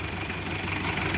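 Close and loud, the engine of a 1994 Isuzu Panther Miyabi Long ticks over at idle with a continuous low hum and a regular, slightly knocking pulse, no other sounds around it.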